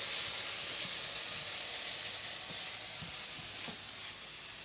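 Steady sizzling and hissing of lime juice frying in a hot pan, continuous and fairly close, with faint scattered pops and stirring clicks.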